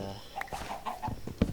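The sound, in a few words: chickens clucking in the video game Minecraft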